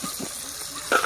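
Onions frying in a pan give a soft, steady sizzle, brief and fairly quiet, with a slight stir near the end.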